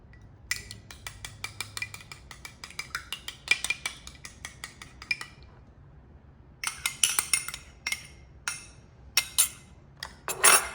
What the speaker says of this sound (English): Now we're also going to add the 2 eggs. Let me mix them up a little bit.